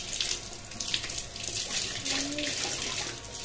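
A cotton cloth is rinsed under running tap water in a kitchen, a steady close faucet stream with light splashing throughout and no talk.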